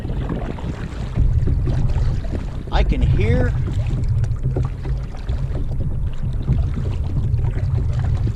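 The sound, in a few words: wind and choppy water hitting kayak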